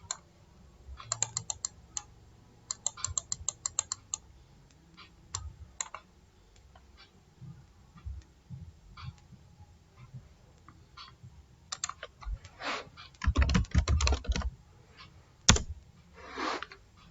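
Computer keyboard typing while entering data in SAP software: scattered bursts of key clicks, near and moderately loud, with pauses between runs and a denser flurry of strokes near the end.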